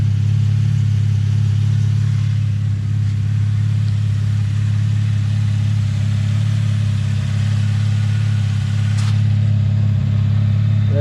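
A 2010-2015 Chevy Camaro engine idles steadily up close during an oil change, a loud, even low hum that holds unchanged throughout, with one faint brief click near the end.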